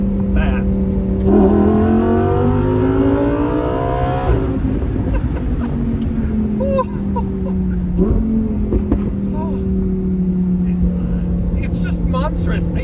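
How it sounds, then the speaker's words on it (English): A 2020 Lamborghini Huracan Evo accelerating hard after a downshift: a loud, rising engine roar that climbs steadily through the revs, heard from inside the car alongside someone talking. "Now, in terms of acceleration, you drop a gear."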